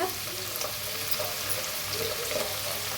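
Chopped onion with garlic paste and cumin frying in a pan for a beans sabzi, a steady broadband sizzle with faint stirring scrapes, continuous and fairly close throughout.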